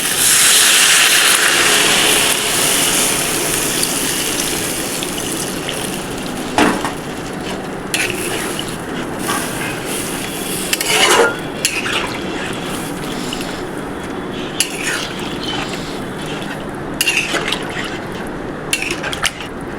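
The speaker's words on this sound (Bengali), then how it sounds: "হালকা করে নেড়ে নেওয়ার পর এবার জল দিয়ে দিতে হবে।" Water pours into a pan of egg curry with raw banana, a loud continuous rush at the start that settles into a softer, steady flow with occasional clinks and knocks.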